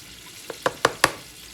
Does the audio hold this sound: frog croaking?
no